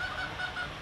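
Swans at a zoo give repeated short nasal honks, close and fairly loud, in a quick series over steady background noise.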